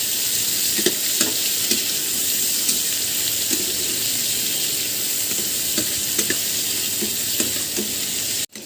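Onions frying in hot oil until reddish-brown for an Aar fish curry, a loud continuous sizzle close by, with occasional clinks and scrapes of stirring throughout.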